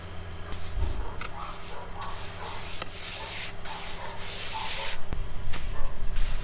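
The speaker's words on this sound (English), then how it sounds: "So we've got our second layer of perlite that we're going to put on now." Loose perlite insulation being spread and rubbed by hand over a second layer on a brick pizza oven dome, a steady close scraping, gritty hiss with no talking.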